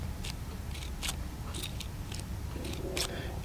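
A Caran d'Ache 849 retractable ballpoint pen held close to a microphone gives a few soft, faint ticks and rustles from its push mechanism, quiet and near with no voice.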